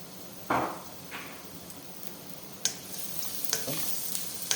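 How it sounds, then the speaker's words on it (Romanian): Onion and carrot sizzling in hot oil in a pan, with a steady soft fry punctuated by a few sharp clatters of stirring and utensil knocks. "Într-o tigaie punem uleiul, ceapa, și morcovul."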